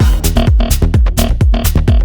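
A punchy kick drum without its layered top kick, programmed in Ableton, thumps in a steady four-on-the-floor pattern with deep low-end bodies, playing loud and alone.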